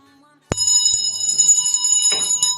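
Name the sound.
tinkling bell at the door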